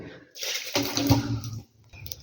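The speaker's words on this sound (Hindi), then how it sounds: "पानी का बर्तन हो गया है गंदा बिल्कुल, इसको गिराएंगे," Dirty water poured out of a water pot, a splashing gush that starts abruptly, runs for about a second and then trails off into quiet.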